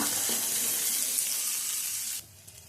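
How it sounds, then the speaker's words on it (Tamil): Onions sautéing in a pan for a drumstick-leaf rasam and stir-fry, a steady close hiss of sizzling that runs loud for about two seconds before dropping away abruptly to a quieter tail. "இது வெங்காயம் வந்து ஒரு 2 நிமிஷம் நல்லா வதங்கட்டும்"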